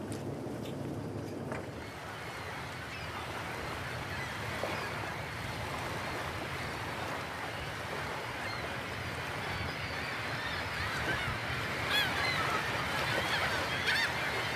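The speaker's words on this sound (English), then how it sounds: "We are soon surrounded by a flock of gulls." A flock of gulls calls around a boat in a busy Norwegian fishing harbour, their honking cries rising over a constant rumble of engine and water, growing louder and more frequent toward the end.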